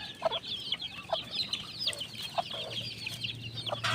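A flock of pet chicks at feeding time, just after being given feed, keeps up a steady stream of overlapping high cheeps and soft clucks close by, over a faint low hum.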